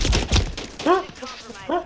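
Call of Duty gunfire on a multiplayer arena map: a few quick, loud shots at the start are followed by a voice talking over fainter shots.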